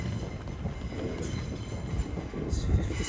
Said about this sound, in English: another Azuma is about to come into platform 3